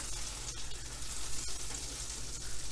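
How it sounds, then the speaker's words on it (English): Butter for a salmon omelette sizzling and crackling steadily in a hot pan, a continuous close frying hiss with small pops and no voices. "the cooking process starts by melting 1 tablespoon of butter"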